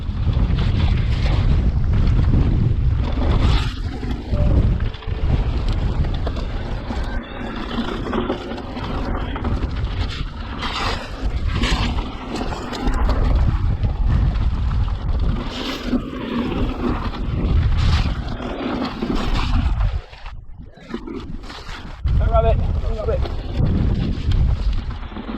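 Strong gusty wind, about 21 mph with gusts to 46 mph, roars and buffets the microphone continuously on a mountain bike trail at Cragg Quarry, Lancashire, surging and easing, with a voice speaking underneath.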